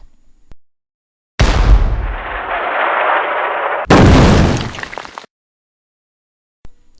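Staged Battle of the Alamo: a loud cannon blast booms with a long rumbling roar, then a second sharp explosive gunfire burst follows and cuts off into silence, close and powerful.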